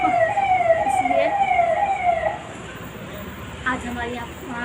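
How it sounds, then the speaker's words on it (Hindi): Police car siren roaming a residential Indian neighbourhood, a wailing tone sweeping downward in repeated cycles at moderate distance, fading after a couple of seconds as a voice speaks and traffic rumbles underneath. "आज हमारी यहाँ पुलिस की गाड़ी बहुत घूम रही है"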